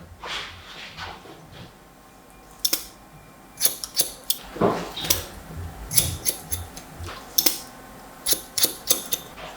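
Scissors snipping curly hair during a haircut, a series of crisp close metallic snips coming in quick clusters with short pauses between, quiet background and no talking.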